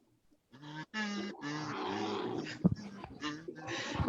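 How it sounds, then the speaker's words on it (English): A cat growls in a low, drawn-out rumble, close and fairly loud, with a brief sharp burst partway through and someone talking over it. "Listen to the growl."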